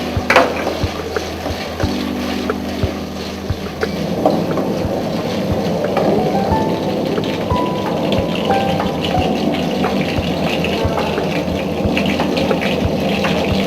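Boiled potato pieces roast in a pan for kadamba potato roast, giving a steady close sizzle and hiss broken by scraping stirs and light clinks.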